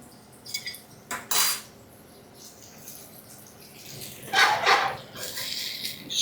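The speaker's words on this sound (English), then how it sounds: "I'm gonna grab my plate here" A plate is picked up at a kitchen counter. Dishes and cutlery clink and clatter in a few short bursts, separated by quiet pauses.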